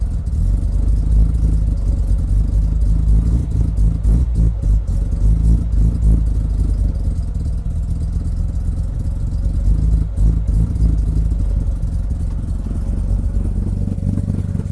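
A rotary-engined Mazda Miata warming up at idle: a loud, continuous low rumble with slight uneven clatter running throughout, close by and without speech.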